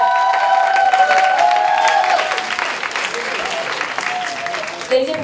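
Loud applause from a large crowd at a school arts festival opening ceremony fills the space, with a few sustained tones ringing over it before the clapping thins out near the end.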